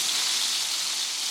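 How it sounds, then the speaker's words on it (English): Handi kebab fries in a pan, giving a brief, steady hiss of sizzling oil with no other sounds. "make sure don't fry the kebab for too long, otherwise it's gonna become very dry"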